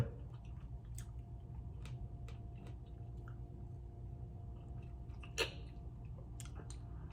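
Soft chewing and small mouth clicks come from someone eating a spicy Thai mixed fruit salad in a home kitchen, close and quiet over a steady low background hum, with no talk.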